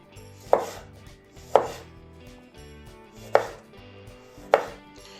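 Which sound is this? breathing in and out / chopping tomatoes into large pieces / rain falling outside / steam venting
chopping tomatoes into large pieces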